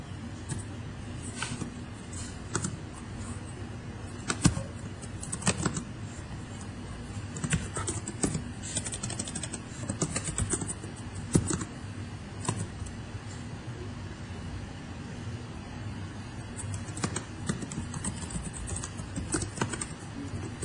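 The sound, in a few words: typing an address on a computer keyboard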